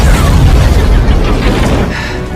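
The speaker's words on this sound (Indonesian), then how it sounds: "kemudian lanjut meledakkan Killian hingga ia benar-benar mokap." A loud, deep explosion from an Iron Man film rumbles continuously with heavy low-end boom and crackling debris, slowly fading toward the end.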